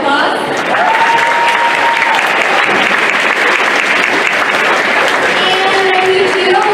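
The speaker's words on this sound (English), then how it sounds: "so give a round of applause." Sustained applause from an audience in a school gym at a high school boys basketball game, loud and steady throughout with a few cheers and whistles mixed in.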